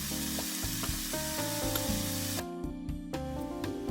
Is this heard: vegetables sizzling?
yes